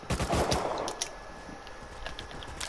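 Rapid bursts of gunfire in the console version of Rust crackle loudly at first, then thin into scattered, fainter shots and distant reports through the rest of the moment.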